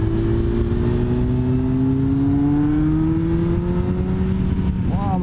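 A Yamaha XJR 1300 inline-four motorcycle with a full Yoshimura exhaust pulls hard, its engine note climbing smoothly and steadily as it accelerates, loud and close, with a brief shift near the end.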